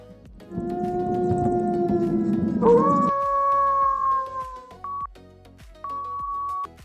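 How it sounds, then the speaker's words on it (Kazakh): A wolf gives a long, steady howl that holds and then bends upward in pitch before tapering off, followed by two short electronic beeps. "Қасқырдың ұлуы."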